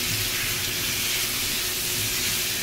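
Seasoned butterflied shrimp sizzling in a hot pan for Chili Cajun Shrimp, a loud, steady, continuous hiss without pause.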